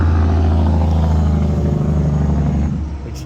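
Road traffic passing close by, a loud continuous rumble of vehicles that holds steady and then eases off slightly in the final moments.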